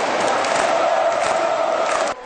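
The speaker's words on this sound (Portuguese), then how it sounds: "Novamente, a vibração da torcida interferiu nas jogadas." A stadium crowd at a sports match roars and cheers continuously at a dense, steady level, holding loud for about two seconds before dropping off abruptly at the end.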